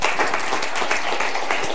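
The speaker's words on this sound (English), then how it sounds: "Please give a warm applause to Stefan Gerling for his talk on how to hack a yacht." A conference audience at the Troopers security event gives a dense, steady round of applause for a speaker, loud and continuous throughout with no pause.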